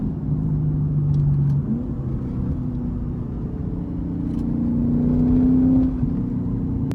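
Lexus IS-F car engine on a mountain road, a steady low drone that swells and eases as the car drives, with a faint rise in pitch near the end and no voices.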